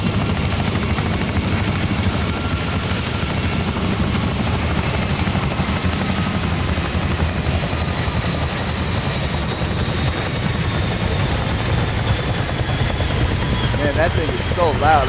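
Loud aircraft engines roar steadily at a skydiving training session, a dense continuous drone filling the whole stretch with a slight rise near the end, while people talk faintly underneath.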